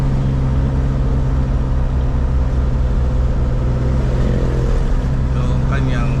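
A Nissan Cefiro with an overheating problem and a faulty alternator runs at idle, giving a loud, steady low engine rumble throughout, with muffled voices in the background.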